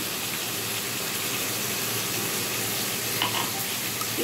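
Steady, dense sizzle of food frying in a pan, continuous and fairly loud throughout with no talking; a brief faint clink near the end.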